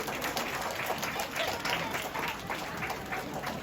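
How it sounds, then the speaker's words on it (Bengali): An audience at a school prize-giving ceremony for Ekushey February claps steadily for the winners, a dense continuous wash of applause from many hands, fairly close and unbroken throughout. "সবাই তাদের হাততালি দিয়ে অভিনন্দিত করুন"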